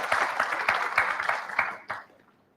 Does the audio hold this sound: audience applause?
yes